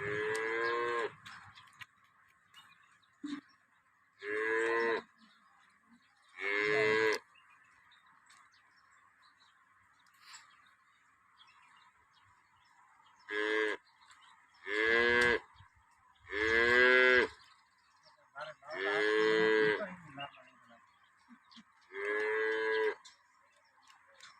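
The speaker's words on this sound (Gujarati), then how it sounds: "અને આરિયા ગાય આજે આપણે લાવી છે બાર વાગ્યાની ટાઈમની" A cow moos repeatedly in long, loud calls spaced by quiet pauses, about ten bellows in all, heard close and alone at a dairy farm in the late afternoon.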